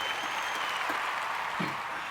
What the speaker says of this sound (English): Round of applause for Thomas King